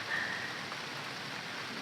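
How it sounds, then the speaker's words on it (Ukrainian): Heavy rain falls in a cold wind, making a steady, dense hiss of drops at moderate loudness with no talking. "Отакий звіявся вітер, стало холодно, дощ насікає"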